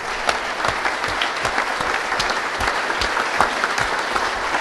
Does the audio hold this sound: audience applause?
yes